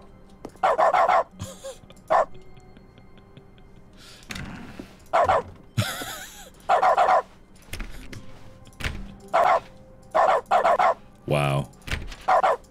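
Dog barks and yips repeat in short, loud bursts, with a whimper among them, from the dog mode of the video game The Stanley Parable. There are gaps between the bursts and a few thuds.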